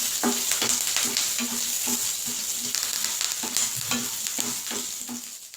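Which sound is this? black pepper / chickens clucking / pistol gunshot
black pepper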